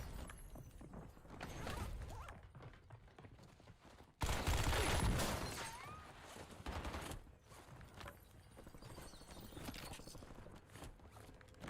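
AK rifle fire in Call of Duty Warzone Resurgence, with rapid automatic bursts and shots scattered through the stretch, one loud burst near the middle, plus game effects around them and no speech.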